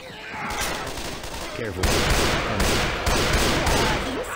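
Rapid bursts of gunfire from the Left 4 Dead 2 shooter game fill a custom Mario-themed castle map, loud and dense with overlapping shots throughout, while players speak over the shooting.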